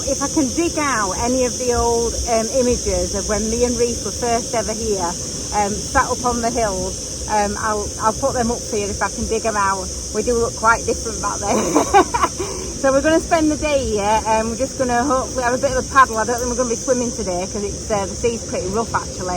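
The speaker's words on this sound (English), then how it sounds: "there's loads of insects here that when it gets really hot," Loud, constant buzzing of insects in the hot Ibiza countryside above a rough sea, a dense shrill drone running throughout beneath a person talking close by.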